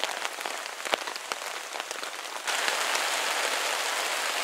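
Heavy rain pours onto a camping tarp shelter during a thunderstorm, a dense close drumming patter with sharper drop hits that swells into a louder steady downpour partway through, no talking.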